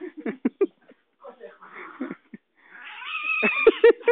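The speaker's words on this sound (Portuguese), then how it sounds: "É um gato." A cat caterwauls and meows in drawn-out, wavering yowls, the loudest rising toward the end, close by, mixed with short bursts of a person's voice early on.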